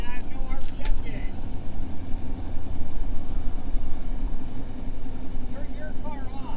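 A 1962 Chevrolet Impala two-door hardtop idles steadily just after its first start in over fifteen years, a low rumbling engine note running continuously with people talking over it.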